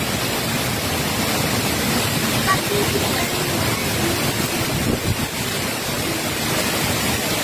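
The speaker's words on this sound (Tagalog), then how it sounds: "Ang lakas ng ulan." Heavy typhoon rain pours in a dense, steady broadband roar close by, with wind-like buffeting and a voice partly buried underneath.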